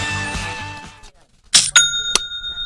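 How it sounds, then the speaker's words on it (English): A Shopify sale notification chime rings out as a bright bell-like ding, followed by a second ring that leaves a sustained metallic tone, right after a quieter stretch. "That's the sound of a sale on Shopify."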